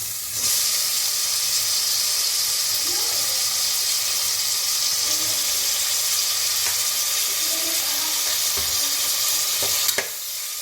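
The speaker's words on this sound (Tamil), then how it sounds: "தக்காளி நல்லா வதங்கட்டும்." Tomatoes frying with onion and ginger garlic paste for a home-style chicken kulambu, a steady close sizzle and hiss across the whole stretch with faint stirring clinks, no talk.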